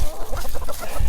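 Chickens cluck loudly and continuously at close range as a backyard flock is let out of their coop at an off-grid homestead in cold, wet weather.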